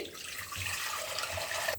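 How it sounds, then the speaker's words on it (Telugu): Fresh water pouring from a tap into a kitchen vessel over boiled meal maker chunks, a steady close splashing rush lasting throughout without any talk. "Fresh water పోసుకోవాలండి."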